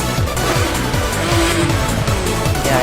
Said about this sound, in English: I don't think that really sounds like an RB20, does it?